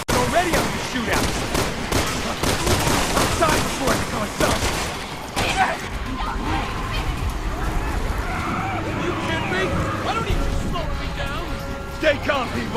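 Rapid, overlapping gunfire from Resident Evil 6's Leon campaign, Chapter 1, crackles loudly as a dense fusillade for about five seconds, then gives way to a murky rumbling backdrop with scattered shouting voices and occasional distant shots.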